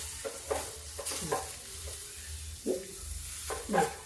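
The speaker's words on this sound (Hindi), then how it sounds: "थोड़ा इसको हम ऐसे भूनते रहेंगे" Okra and potatoes frying in a pan, stirred with a spatula, giving a soft sizzle with several distinct scraping strokes close by.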